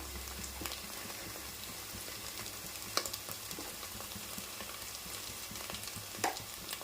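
Spices with ginger garlic paste frying in a pan for a fish curry, a steady soft sizzle with occasional clicks and stirring taps, no talking.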